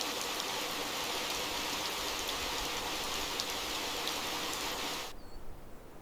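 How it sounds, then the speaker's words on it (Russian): Rain falls steadily through a spring forest as a soft, even hiss at moderate distance, then drops away abruptly to quiet near the end. "начался дождь, и ей пришлось спрятаться в укрытие"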